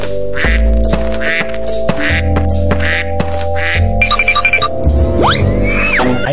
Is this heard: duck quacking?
yes